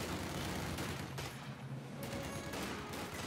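Machine gun fire in the Company of Heroes 2 video game, a dense, continuous rattle of rapid bursts at moderate distance, fairly faint and unbroken throughout with no talking.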